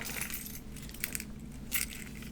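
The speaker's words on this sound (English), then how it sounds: "Do you have your keys with you?" Metallic keys jingle and clink in a few short bursts, fairly close, over a low steady background hum.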